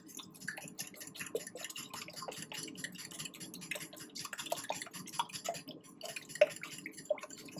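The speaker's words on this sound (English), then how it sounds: "I'm going to whisk it with a fork, because I'm going to be working all that cheese and everything in" A fork whisks eggs and cheese in a bowl, making quick, light, irregular ticking clinks and soft wet taps that carry on continuously at a quiet, close level, with no talking.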